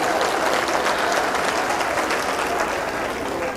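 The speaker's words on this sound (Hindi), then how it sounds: "अगर बात में दम हो तो तालियां चाहता हूं ना।" A crowd applauds at a mushaira poetry recital in Sikanderpur, a continuous loud wash of clapping that holds steady across the whole stretch.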